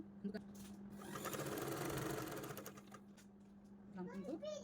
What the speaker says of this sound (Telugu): అడ్జస్ట్ చేసుకుంటూ స్టిచ్ వేసుకోవాలి.